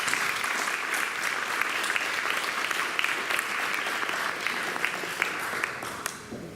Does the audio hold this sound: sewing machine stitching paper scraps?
no